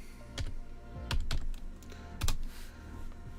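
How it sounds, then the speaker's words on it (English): Keys clack on a computer keyboard as a short code is entered, a few distinct irregular taps standing alone over a quiet background. "if I type in the corner here EGNN"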